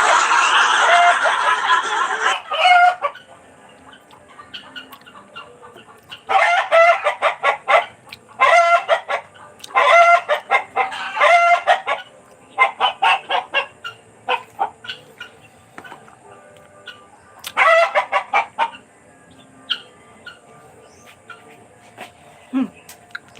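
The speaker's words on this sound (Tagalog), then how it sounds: "Tigilin ko muna yung mga manok." A loud rooster crow opens, followed by bursts of clucking chickens in irregular clusters, close by, with quieter pauses between the squawks.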